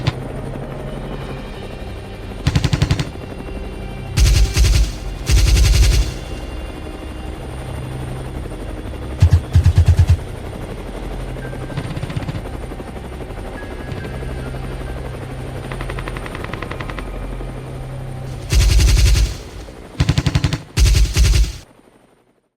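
Helicopter hunters over farmland firing on wild boars, with a helicopter rotor thumping steadily throughout while several loud, clustered bursts of rapid gunfire break out at intervals, close and dominant.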